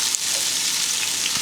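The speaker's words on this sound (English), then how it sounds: "So my 2 onions," Two onions cook in hot beef tallow, a dense continuous sizzle close by with a faint knock at the start.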